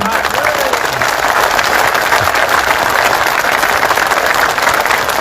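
Loud, dense applause from a large crowd at a rally at Azad Maidan, sustained evenly throughout without pause.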